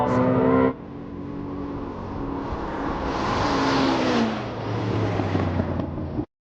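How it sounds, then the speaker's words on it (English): A Ferrari SF90 XX launches and accelerates hard, a loud engine roar starting with a brief tonal whine, then a rising, rushing surge as the car pulls away before the sound cuts off abruptly. "The Ferrari absolutely nails the launch. Perfect traction, instant acceleration."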